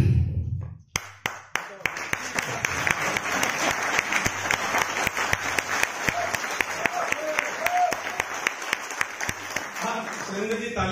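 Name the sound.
seminar audience applauding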